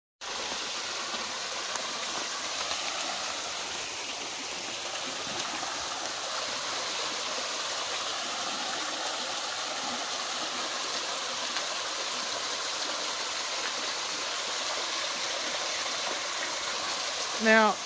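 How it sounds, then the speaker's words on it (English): A small waterfall feeding a stream in the Australian bush rushes in a constant, close wash of splashing water with no break, a brief knock near the end. "We have our own little waterfall."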